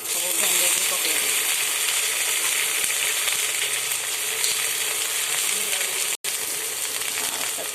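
Okra (lady's finger) frying in hot oil in a pan, a loud, close, steady crackling sizzle that runs throughout with one brief dropout near the end.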